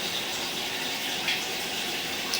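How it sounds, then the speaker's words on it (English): A toilet flushes and water runs upstairs in a house, heard as a steady, muffled rush of water through the pipes that continues evenly throughout at moderate level, with no voices. "you can tell somebody's flushing the toilet and running some water upstairs."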